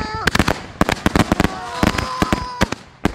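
Fireworks going off in a rapid string of sharp, loud bangs and crackles, some overlapping and clustered, with brief whistling tones between bursts and a voice talking underneath.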